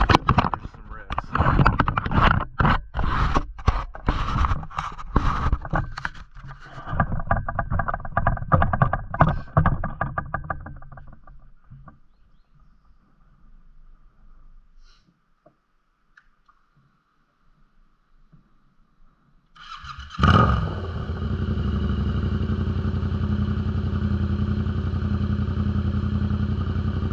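A 2021 Yamaha MT-07 motorcycle with a Toce titanium exhaust, heard close with a choppy, pulsing engine sound that fades to near silence before a loud, sustained rev rises and holds.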